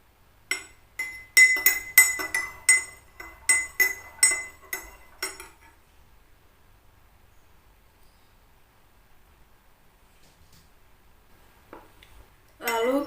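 A spoon clinks rhythmically against a glass while stirring red food coloring into water, about ten bright ringing taps in quick succession, then a quiet pause and a brief clatter at the end.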